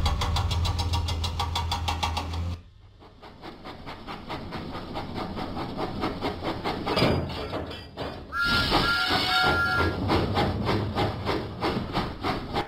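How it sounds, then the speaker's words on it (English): Thomas the steam locomotive pulls away in the Thomas & Friends video game, chuffing in a steady, rhythmic beat with clanking mechanical noise, loud and close, and no talking. "Thomas pumped his pistons and puffed out of the docks."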